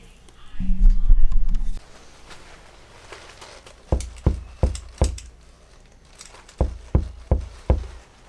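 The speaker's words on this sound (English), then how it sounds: "Who dare knock on my door while I read?" Two quick sets of four sharp knocks on a wooden door, loud and close, separated by a short pause, following an earlier low droning hum.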